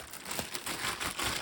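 Plastic bag crinkling and rustling close up as it is handled during crafting with glue and wallpaper paste, a steady dry crackle with soft bursts for over a second.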